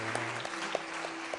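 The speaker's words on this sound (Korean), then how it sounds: "서로를 좀 격려하는 박수를 좀 한번 쳐주시죠." Congregation clapping during a Sunday morning church service, a faint, distant spatter of hands with a few sharper individual claps standing out over a low steady hum.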